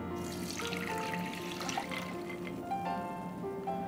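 Water runs and splashes into a kitchen sink as soaked almonds are strained out of hot water, with faint clinks of utensils and a steady flowing rush throughout.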